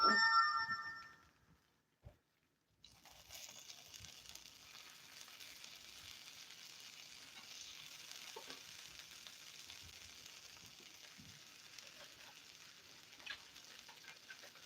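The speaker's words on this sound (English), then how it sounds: "Y'all hear that sizzle?" Quiet, steady sizzling of a quesadilla frying in a pan, a soft crackling hiss that continues after a brief electronic beep at the start.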